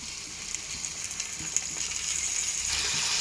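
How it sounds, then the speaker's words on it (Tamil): Small onions and chopped tomatoes sauté with salt in a pan for spicy chutney, giving a steady close sizzle and hiss that swells slightly louder toward the end. "இது நல்லா வதங்கி வரட்டுங்க"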